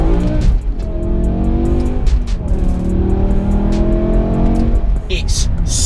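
2007 BMW E60 M5 with a Tubi exhaust accelerating hard: a loud, rising engine howl that climbs through the gears with brief dips at each shift, close and continuous.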